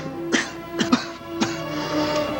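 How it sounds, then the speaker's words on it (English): A few short, rough coughs or throat-clearing bursts, about three or four close together over a low, steady background hum, with no talk. "the sound of your cough"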